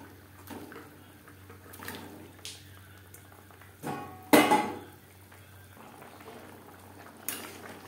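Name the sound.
fish curry gravy boiling in a pot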